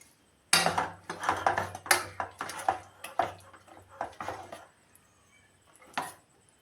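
Unniyappam batter being stirred with crushed cumin and cardamom powder in a bowl, giving a run of close clinking, scraping knocks for several seconds before fading to a few last taps.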